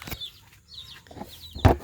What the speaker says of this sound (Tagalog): magpapatoka ako sa mga manok